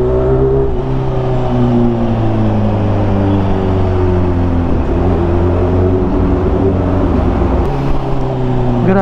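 Kawasaki H2 Carbon supercharged motorcycle engine accelerating, a loud steady roar whose pitch climbs gradually through the gears, close and continuous with no talking.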